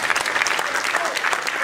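Dense, energetic applause from an audience at a formal South Africa–DRC agreement event in a hotel, many hands clapping loudly and continuously at close range.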